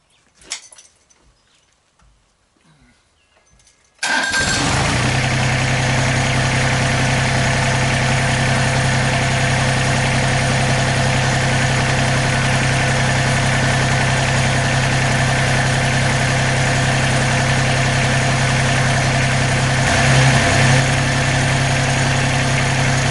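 An LS MT125 tractor's diesel engine cranks over after a few seconds of quiet handling noises, then catches and settles into a loud, steady idle that drones on close by without any talking.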